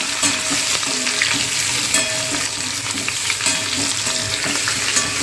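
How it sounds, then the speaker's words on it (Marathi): Boiled potatoes fry in oil with a loud, dense, continuous sizzle and bubbling crackle, stirred now and then, close up and without talk. "हे जे बटाटे आहेत ना ते आपल्याला असे तेलामध्ये सोडायचे आहेत आणि चांगले असे तेलामध्ये फ्राय करून घ्यायचे आहे"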